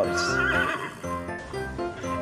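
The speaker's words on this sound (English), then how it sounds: "Horse." A horse neighs in a loud, close, quavering whinny with wavering pitch, heard alone without talk.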